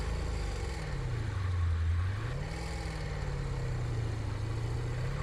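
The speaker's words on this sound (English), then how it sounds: "Proper carbureted V8." A carbureted V8 car engine running close by, a low steady rumble that dips and rises in pitch as the revs change, alone without talk.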